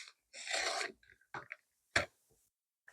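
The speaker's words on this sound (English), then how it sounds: "I used my guidelines to try to help me get my blade in the right spot to trim away the excess." A craft blade slices away excess paper along guidelines to make a wide scrapbook border, giving a close rasping scrape followed by a few short, quiet scratches and a sharp tick.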